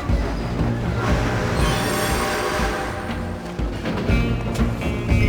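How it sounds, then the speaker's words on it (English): Steam train rolling along in Red Dead Redemption 2, with a steady loud rumble of wheels on rails and squealing metal throughout, no talk. "I'm gonna ride ahead and stop the train"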